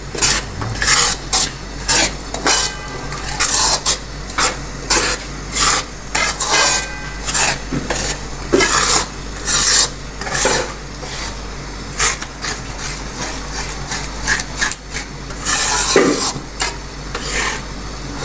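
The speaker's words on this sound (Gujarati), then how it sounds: "આપણે આ ગુલાબી જેવો લોટ થાય ત્યાં સુધી શેકવાનું છે" A spoon scrapes and stirs gram flour roasting in a thick, heavy pan for besan ladoo, with repeated rhythmic rasping strokes and faint sizzling between them. No one speaks.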